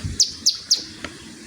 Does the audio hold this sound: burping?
no